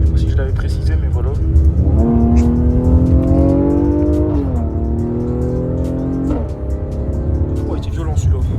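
Mercedes AMG car with its stock exhaust revving hard: a loud, close engine roar that climbs in pitch, holds, then drops back, with a second sharp blip near the end.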